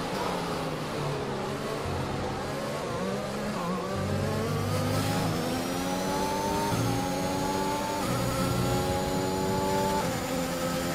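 Formula 1 race cars in F1 2021, a loud continuous engine whine with rising gear-by-gear pitch sweeps and upshifts, steady and close throughout with no talk.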